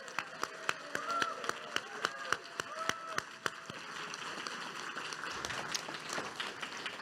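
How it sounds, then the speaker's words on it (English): Audience applause for Nancy at a remembrance gathering, sharp scattered claps in a steady rhythm at first, then blending into denser, softer clapping, somewhat distant. "Round of applause for Nancy."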